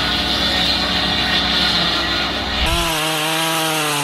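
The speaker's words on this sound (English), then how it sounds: "he revved up the chainsaw, its growl cutting through the quiet forest" A chainsaw cuts through a tree stump with a loud, dense buzzing roar, then drops to a rougher idling whine near the end, close and continuous.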